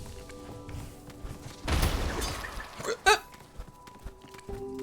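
A single sharp hiccup bursts out close and loud, following a brief noisy rustle, with faint game music and ambience underneath.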